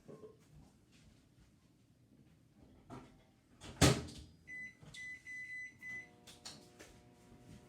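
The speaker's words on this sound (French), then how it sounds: "je vais aller faire préchauffer mon micro-grill pour qu'il y ait déjà une chaleur d'accumuler dans le métal" A microwave oven being set to preheat a metal micro-grill: a sharp door clunk, then a series of keypad beeps and a steady electronic tone as the oven starts, fairly close in a quiet kitchen.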